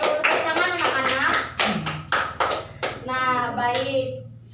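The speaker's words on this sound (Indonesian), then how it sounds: "Tepuk tangan anak-anak." Children clap their hands in a classroom during a microteaching lesson, a run of quick, loud, uneven claps with a teacher's voice talking over and after them.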